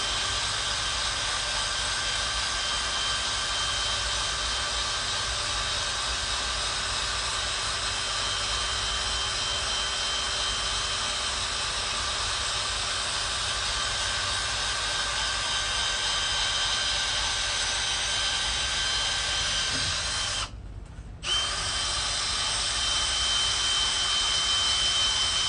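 Power sander smoothing curb rash off a rare, discontinued Hart racing wheel, a loud continuous whirring drone that runs nearly unbroken, with one brief cut-out before resuming.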